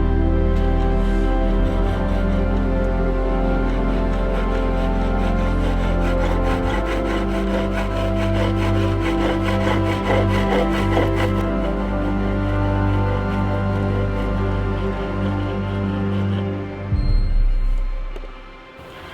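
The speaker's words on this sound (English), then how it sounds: "a chisel like this may have a big part to play in turning archery blunts, if indeed they were turned on a pole lathe" A steel chisel cuts wood on a spring pole lathe, used for turning archery blunts, giving a steady close scraping and rasping that runs unbroken for most of the clip before trailing off near the end.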